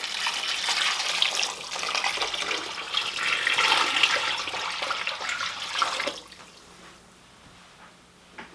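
Water gushes steadily from a tap into a pot being filled for turkey brine, a loud rushing splash for about six seconds that then stops, leaving faint drips and handling sounds.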